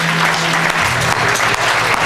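Loud, close applause from an awards-night audience honoring recipients at a Caribbean American heritage gala, a dense continuous clatter of many hands throughout the short span.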